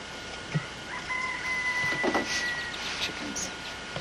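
Chickens cluck and call faintly in the background, with a soft crow-like note, over a steady noisy ambience.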